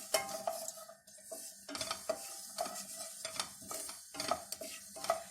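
Fenugreek and mustard seeds roast lightly in a pan for tomato pickle, with a soft sizzle under repeated close scraping and stirring clinks of a spoon against the metal.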